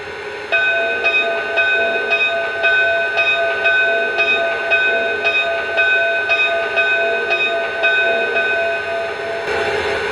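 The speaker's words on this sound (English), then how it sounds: "let's check out the bell" The bell of a Lionel Reading T-1 model locomotive rings in a steady, even rhythm of repeated strikes over a constant mechanical hum, clear and close, with no voices.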